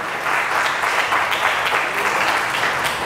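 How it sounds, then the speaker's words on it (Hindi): Church congregation applauding during a sermon, a dense, even wash of clapping that holds steady and loud for the whole stretch, with no voices over it. "जोरदार तालियां खुदा के जलाल के लिए।"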